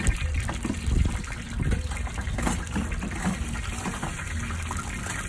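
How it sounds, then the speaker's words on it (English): Hot fat drained from a pan of cooked taco meat pours in a continuous, near gush of liquid, splashing steadily for a few seconds. "drain the fat"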